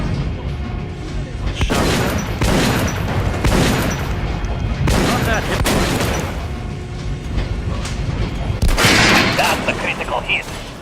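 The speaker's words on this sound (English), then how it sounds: "Shotgun." Shotgun blasts in Metro: Last Light, several loud broadband bursts spaced a second or two apart over continuous game background noise, with a heavier blast near the end.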